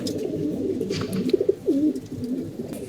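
A large pigeon coos softly nearby, giving a few low, rounded warbling calls in short bursts over faint background noise.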